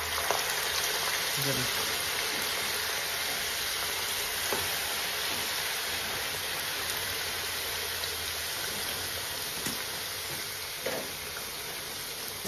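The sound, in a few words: potato french fries frying in hot oil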